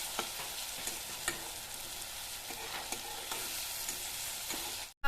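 Onion and spices for Maggi noodles fry in a pan, giving a steady close crackling sizzle with soft periodic stirring scrapes before cutting off abruptly at the end.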